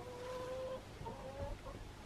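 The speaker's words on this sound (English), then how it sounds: "Well, the chickens don't want to come out today." Hens clucking inside a snowy chicken coop, soft drawn-out tonal calls in a couple of steady phrases, close and moderately quiet over a low background hum.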